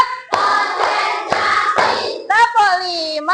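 Children in an Indonesian classroom perform a rhythmic clapping game, with several dense bursts of claps in a steady beat followed by children chanting together, close and lively.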